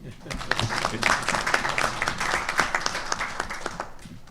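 Audience applause at a staff capacity-building program launch, a steady wash of many hands clapping for several seconds, fairly close and moderately loud, with some voices mixed underneath.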